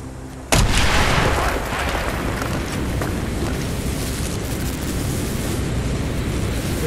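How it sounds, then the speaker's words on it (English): In Call of Duty: Black Ops, an explosive charge blows a hole in a wall: a sudden loud blast erupts after a brief quiet moment and then settles into a sustained, rumbling roar of gunfire and battle noise, with no talk. "Mason, blow a hole in that fucking wall."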